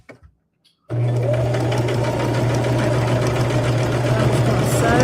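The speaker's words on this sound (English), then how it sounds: "I'm just going to sew around it." A sewing machine stitches a rag quilt, starting after a moment of near silence and then running as a loud, steady, close hum with a mechanical whir for the rest of the clip.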